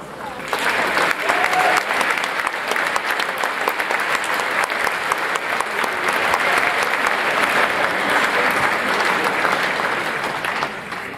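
A school audience at a high school scholarship awards ceremony claps in sustained, dense applause for the full length, loud and even, with no pause.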